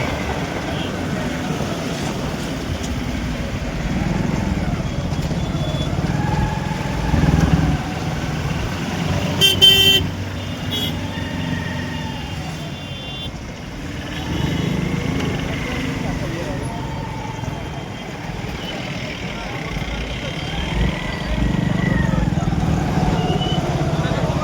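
Cars and other vehicles honk repeatedly in a rural road traffic jam, short horn toots over a steady engine rumble, with people talking throughout.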